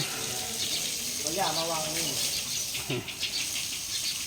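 Water gushes and splashes steadily over a bull elephant being bathed on a hot day, a continuous close hiss broken by brief sloshes, with a short human vocal sound rising over it partway through.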